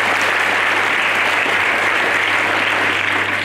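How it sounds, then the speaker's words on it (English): Loud, dense audience applause at a spoken English event, continuous and even throughout with no pauses or speech. "So give a big round of applause for Devlok ji"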